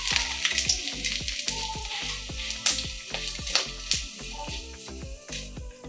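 A strainer of raw rice held in hot frying oil gives off a continuous bright, crackling sizzle, close and even, with a steady rhythmic musical backing running beneath.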